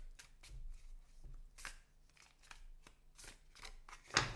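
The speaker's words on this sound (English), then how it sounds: "when it comes to shuffling this deck, it shuffles really well." A Morgan-Greer tarot deck is shuffled by hand, giving a series of quiet, crisp riffling card bursts at an irregular rhythm, close up and with no talking.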